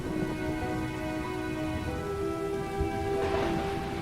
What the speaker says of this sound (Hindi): ऐसे ही देखते देखते कुछ दिन बीत गए पर बारिश ना रुकी।